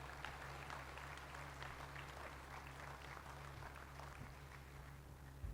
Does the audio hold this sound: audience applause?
yes